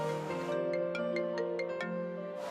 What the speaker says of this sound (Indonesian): Bentar, ada telepon.